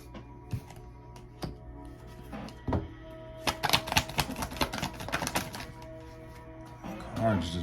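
Tarot cards shuffled and tapped by hand, sharp irregular riffling clicks and flaps that burst densely in the middle, quiet background hum and a brief voice at the end.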